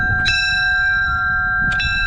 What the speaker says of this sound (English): Then you got the old bell, old brass bell. You can operate it, I guess.